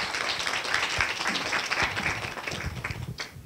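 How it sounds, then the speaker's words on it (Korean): An audience at a Korea University education graduate school anniversary symposium applauds to welcome the keynote speaker, producing a dense, continuous wash of clapping from many hands at an even level throughout. "박수로 환영해 주시기 바랍니다"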